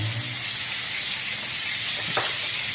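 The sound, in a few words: sautéing ingredients for shrimp ginataang hipon, sizzling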